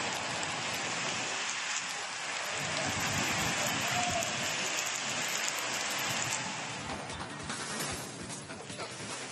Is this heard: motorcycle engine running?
no